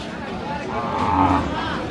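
A Friesian cross cow lets out a single low, drawn-out moo close by at a cattle market in Dinajpur, swelling slightly in the middle before fading.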